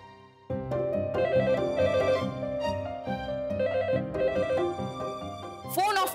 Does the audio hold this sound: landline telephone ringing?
yes